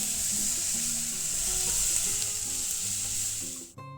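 Garlic, onion, capsicum, carrot, cabbage, green chilli and spring onion sizzle loudly in a pan for momo stuffing, a constant close fry with light stirring that cuts off abruptly near the end.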